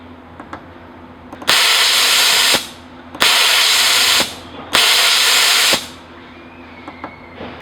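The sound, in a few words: pneumatic mister spraying air and water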